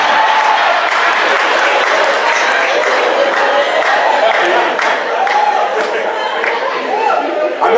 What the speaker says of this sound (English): That brother clapped too damn hard.